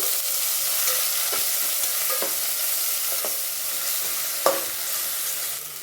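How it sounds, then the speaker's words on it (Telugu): Ginger garlic paste fries with cumin seeds in a pan for pulao: a continuous bright sizzle dotted with occasional sharp clicks of a spoon stirring, close and loud, without talk. "ఒక స్పూను అల్లం తరగడ్డ పేస్ట్ చేస్తాను వేపుకుందాము"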